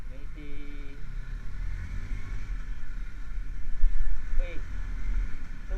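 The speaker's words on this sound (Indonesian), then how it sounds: "tumben ada angkot, biasanya nggak ada angkot di sini." An angkot minibus passes on a road, its engine a steady low rumble that swells as it goes by, mixed with other traffic and wind while people talk nearby.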